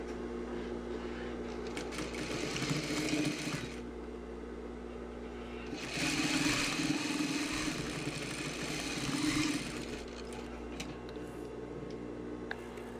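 Sewing machine stitching a fabric seam, a close mechanical whirring hum that runs in several bursts with short pauses between, over a steady background drone.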